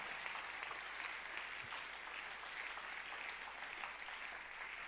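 A church congregation applauds and cheers in acclaim of the Lord, a steady wash of clapping from many hands heard at a distance.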